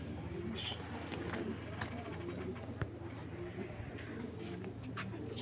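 Racer pigeons coo softly in a loft, a steady low murmuring cooing that runs throughout, with someone talking over it nearby.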